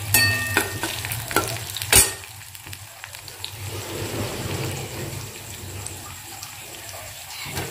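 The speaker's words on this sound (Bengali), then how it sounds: "আর একটু টমেটো দিয়ে এটা কষিয়ে নেব।" Tomato is sautéed with a precooked banana stem in a home kitchen pan. A steady sizzle runs throughout, and a few sharp clanks from stirring come near the start.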